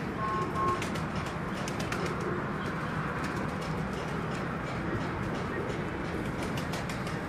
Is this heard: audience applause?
no